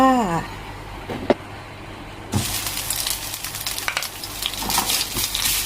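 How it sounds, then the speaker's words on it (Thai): Thai red curry paste for chu chee pomfret hits hot oil in a pan with a sudden loud sizzle midway, then keeps crackling steadily as it is stir-fried, close and alone after a faint earlier clatter. "ผัดเลย ผัดให้พี่แกงหอมเลยนะคะ"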